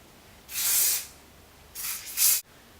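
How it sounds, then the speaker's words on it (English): Hairspray misted over freshly curled hair, two close hissing bursts from an aerosol can, the second split into short puffs, with near silence between them. "Just give it all a little spray."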